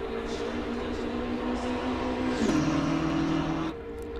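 The V8 engine of a BMW M6 GT3 race car in the Assetto Corsa Competizione video game drones steadily at high revs, with its pitch dipping into a lower, smoother note midway, a fairly muted undertone rather than a growl.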